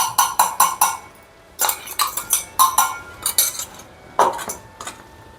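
A metal spoon stirs okra and spice powder in a cooking pot, giving bursts of sharp clinking scrapes against the pot in quick rhythmic runs separated by short pauses, close and with no talking.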